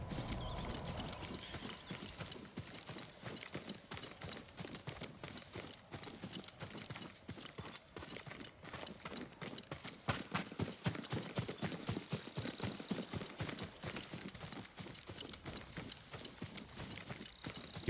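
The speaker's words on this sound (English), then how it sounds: "Yuriko's horse. She can't be far." A horse gallops in the video game Ghost of Tsushima, its hooves landing in a fast, steady clip-clop rhythm that runs the whole time, close and fairly loud over soft outdoor ambience, with no talk.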